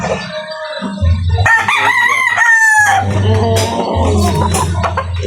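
A young rooster crows loudly and close by in several drawn-out calls, with other chickens clucking around it in the background.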